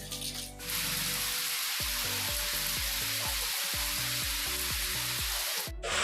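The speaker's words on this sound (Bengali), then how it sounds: "প্রচণ্ড জোরে বৃষ্টি পড়ছে" Heavy rain pours outside in a loud, continuous broadband hiss, with a series of repeated falling tonal sweeps running through it and no talking.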